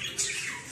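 A pet canary gives a short, sharp squawk, close and fairly loud, with no talk over it.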